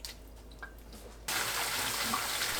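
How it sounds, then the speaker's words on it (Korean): Wild chives rinsed in a bowl of water, giving a sudden burst of loud, steady splashing and running water halfway through after a quiet start. "2번 헹궈주세요"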